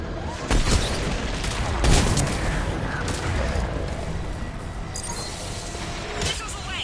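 Missiles launched in a Mass Effect 3 battle, a dense barrage of booming blasts and crashing impacts in quick succession, loud and layered over continuous rumbling combat noise, with a voice talking faintly in the mix.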